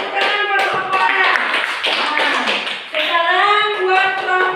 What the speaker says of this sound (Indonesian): tepuk tangan buat kelompok A